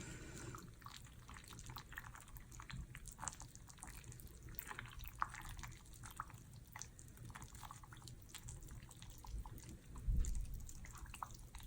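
Cornstarch, coloring and water are stirred together in a bowl, giving soft, close wet squelching and scraping sounds that run continuously and quietly without speech.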